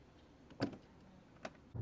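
A Peugeot 408 trunk lid thumps shut, a couple of brief close knocks with a short latch clunk, then a third knock at the end, all in a quiet setting.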